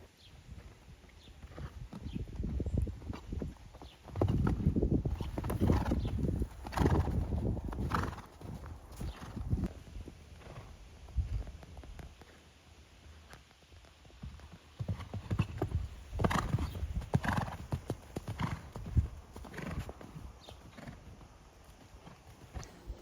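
Horse hooves clip-clop on an arena surface as a horse is ridden over jumps, with bursts of faster, heavier footfalls and quieter gaps in between, and a faint whinny in the mix.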